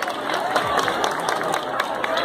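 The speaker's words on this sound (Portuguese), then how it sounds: "Merece um salve de palmas." A crowd at an outdoor town square celebration, a Christmas lights inauguration in Cacimba de Dentro, Paraíba, claps and cheers in a steady, noisy wash, with voices mixed in.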